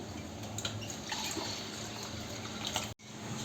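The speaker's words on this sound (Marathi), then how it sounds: "आता मी ही डाळ मस्त स्वच्छ धुवून घेणार आहे दोन ते तीन पाण्यांनी" Water sloshes and trickles close by in a steady, wet churn as lentils are rinsed, with a brief break near the end.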